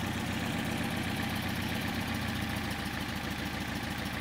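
A Porsche 356 engine fitted with Solex 40P11 carburetors idles steadily, producing a close, continuous low rumble with a fine pulsing texture and no voices over it.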